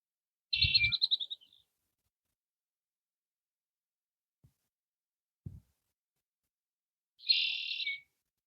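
Birds chirp beside fishing water in two quick, fairly close bursts of bright tweets, one at the start and one near the end, with a quiet gap and a few soft low thumps between them.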